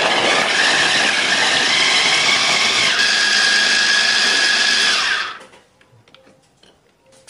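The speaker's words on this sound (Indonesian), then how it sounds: "Untuk bawang merah dan juga cabenya kita giling dulu." A grinder grinding chilies and shallots roars loudly and steadily for about five seconds, its motor whine holding a constant pitch before it cuts off into near silence.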